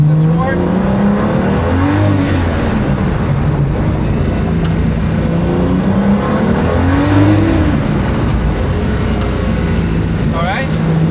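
Race car on a track day circuit, engine loud and steady with rising and falling rev sweeps as it accelerates and builds torque, a continuous close drone with faint tire noise throughout.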